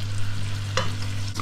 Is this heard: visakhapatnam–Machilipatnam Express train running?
no